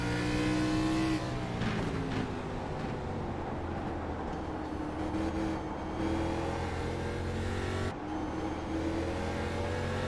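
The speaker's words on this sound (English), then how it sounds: "I can hear how much he's playing with the throttle there." A K&N race car at Stafford roars from on board, its engine note loud and close, rising and dipping as the driver feathers the throttle, with a brief lift near the end.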